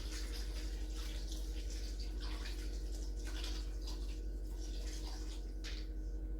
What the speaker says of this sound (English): I have 3½ cups of warm water that I am going to dump in on top of the meatballs and the gravy mixes